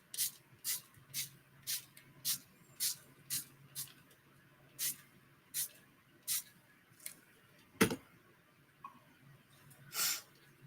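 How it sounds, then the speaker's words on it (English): Spray bottle spritzing junk journal paper, about a dozen quick sharp puffs in a steady rhythm, then a few scattered bursts, close and fairly quiet against a soft background. "Since I'm just playing, I want to see what happens if we spritz it."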